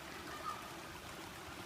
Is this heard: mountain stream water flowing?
yes